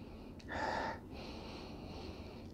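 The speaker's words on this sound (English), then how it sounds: "I take some deeper sniffs." Deep nasal sniffs taken close up over a glass of Great South Bay Brewing Company Blonde Ambition imperial blonde ale, one strong inhale followed by a longer, softer one, with no talking.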